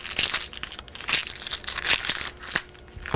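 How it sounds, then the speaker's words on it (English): Papery outer skin being peeled off a halved onion, with dry crinkling and crunching rustles coming in several quick bursts up close, no talking. "I cut down through the onion first, and then use this to peel the outer layer of skin off"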